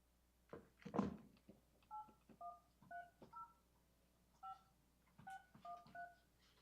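Touch-tone keypad beeps as a telephone is redialed on speakerphone during a firefighters' pension board meeting, an irregular string of short, faint tone pairs after a brief thump.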